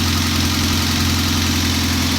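A Honda K24A1 engine from a 2004 CR-V, swapped into a 1995 Civic coupe, idling after a valve adjustment; loud, steady, close mechanical hum with an even low drone throughout.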